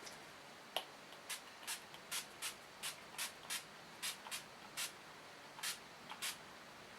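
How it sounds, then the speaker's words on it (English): Makeup setting spray puffs out in a fine mist, over a dozen short, crisp hissing bursts in an uneven rhythm, close and fairly quiet against a still background. "Let me see if it sprays"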